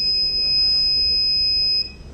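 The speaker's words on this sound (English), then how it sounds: "That's why it is giving a buzzer alert." A battery management system buzzer on an Arduino UNO EV battery monitor sounds a steady, continuous high-pitched electronic tone, warning of a low battery pack, then cuts off near the end.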